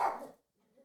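A single sharp dog bark indoors, close and fairly loud, fading quickly into near silence.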